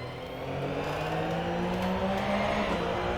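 A 2017 Porsche GT3 Cup one-make race car on a hot lap at the Formula E Ancol circuit, its engine droning loud and steady from inside the cabin as the pitch climbs gradually under acceleration.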